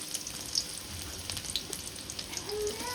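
Onions sizzling in hot oil in a pan during village-style fish and taro curry cooking, a steady moderate crackle with a few sharper pops, close by and without talk.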